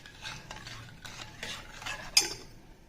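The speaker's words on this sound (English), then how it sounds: "Mix it until the sugar dissolves." Spoon stirring sugar into coconut milk in a bowl for appam, a soft rhythmic swishing and scraping of utensil against the vessel with a sharper clink near the end, close and fairly quiet, with no talking.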